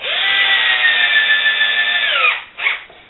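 A power drill drives screws into an acoustic panel, a loud steady whine for over two seconds that winds down, followed by a brief second burst of the drill.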